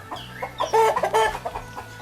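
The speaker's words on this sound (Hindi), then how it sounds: "ये जी जनाब मुर्गा पाकिस्तानी असील मुर्गा है।" A Pakistani Aseel rooster clucks on a farm in a short burst of several rapid, fairly close clucks over a steady low hum, with no talk.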